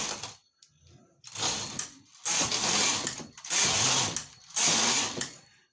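A sewing machine stitching a baby frock, running in four loud bursts of rapid mechanical clatter separated by short pauses, close by and alone.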